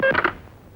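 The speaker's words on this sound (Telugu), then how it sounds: "పాండుగాడికి ఫోన్ చేస్తాను." A few quick telephone keypad tones beep in rapid succession as a phone number is dialed, loud and close, then fade into quiet.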